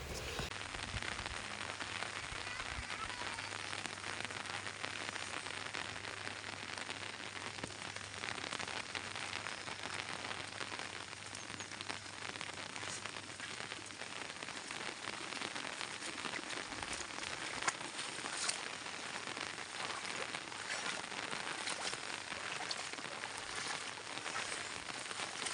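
Steady rain falls on flooded rice paddy fields during transplanting season, a constant, even patter and hiss of drops with no voices.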